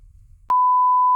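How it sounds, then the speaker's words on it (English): A censor bleep covering a spoken name, a single loud steady pure tone that cuts in abruptly after a moment of faint low rumble and holds to the end. "So I'm going to beep out everything."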